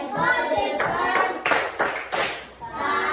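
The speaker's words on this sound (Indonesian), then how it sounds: "Mari kita tepuk salut." A group of children claps a rhythmic salute in a classroom, several sharp bursts of claps in quick succession, loud and close, with voices chanting between them.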